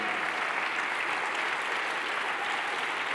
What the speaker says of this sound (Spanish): Alguien le puede dar fuerte ese aplauso al Señor